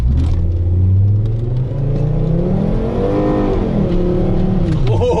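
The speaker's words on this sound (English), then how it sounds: "Time for a Volvo burnout." Volvo 850R doing a smoky burnout at a raceway, a loud close engine revving hard with rising and falling pitch as the tires spin, with people talking faintly underneath.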